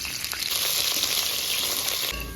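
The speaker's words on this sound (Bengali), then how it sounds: "উচ্ছেটা আমি ভেজে নিচ্ছি" Pieces of bitter gourd fry in hot oil for a sukto dish, giving off a steady, dense sizzle that stays close and loud throughout.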